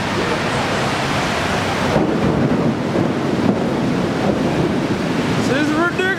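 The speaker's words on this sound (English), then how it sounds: "I wanted it to rain, and it started raining." Heavy rain and rolling thunder in a thunderstorm near KL Tower in Malaysia, a dense steady roar with wind buffeting the microphone throughout.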